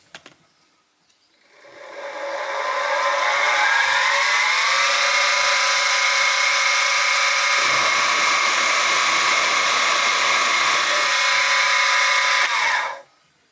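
A machine drill spins up and bores through a metal baseplate for a Stuart half beam steam engine with a 3.9mm bit. It gives a loud rising whine that holds steady, then winds down after about ten seconds.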